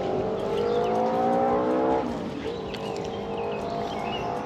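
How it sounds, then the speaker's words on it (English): A car passes on a road near a river sand bar at night, a steady engine hum that swells and then fades with a slight pitch drop, heard at moderate distance in an outdoor setting. "You hear the car?"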